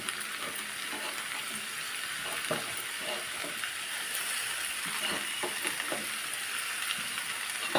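Chopped ivy gourd and onion fry in a pan with a steady, close hiss and sizzle, broken by light scraping and clicking as the pieces are stirred.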